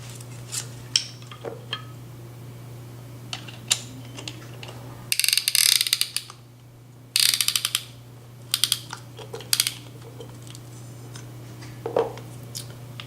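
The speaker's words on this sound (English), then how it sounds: "we're going to use a square key to tighten the piston ring compressor" Square key ratcheting as it tightens a spring-loaded piston ring compressor around an engine piston, quick bursts of close metallic clicks separated by pauses, over a steady low hum, with no talk.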